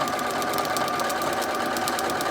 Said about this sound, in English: Okay, so we're going to sew right on that line